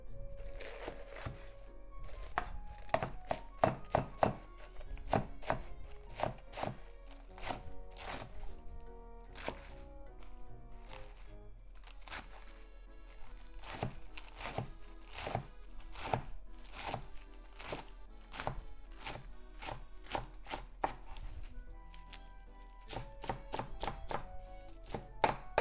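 Knife chopping lettuce into small pieces for tuna and lettuce fried rice, a steady run of sharp, close thunks on the board that continues throughout with brief pauses between bursts.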